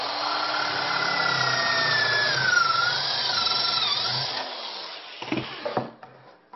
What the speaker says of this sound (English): when you drill through, it makes a cleaner cut on the bottom